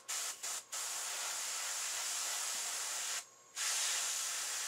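Airbrush spraying paint onto an elk taxidermy epoxy sculpt, a continuous close airy hiss broken by a few quick stop-start bursts and one short pause before resuming.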